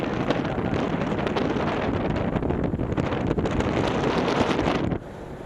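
Wind buffets a Garmin VIRB 360 camera microphone outdoors, a loud continuous rumbling roar with flutter that drops away abruptly near the end.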